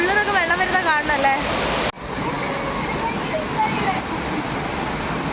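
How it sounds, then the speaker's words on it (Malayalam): A waterfall pours down through a large rock at a scenic spot in Kerala, a dense steady roar close by, with someone talking over it for the first two seconds before the rushing water continues alone. "ഇതിൻ്റെ നടുക്കായിട്ടാണ് ഈ വാട്ടർ ഫോൾസ് വരുന്നത്"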